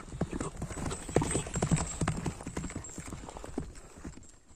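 A horse's hooves clip-clop at a steady walking rhythm, close and clear, with a faint voice in the background.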